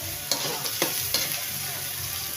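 Ground meat with garlic and onion being stirred in a sizzling pan, with a steady fry hiss and three distinct scrapes of the spoon at a slow, even pace, close by and without voices.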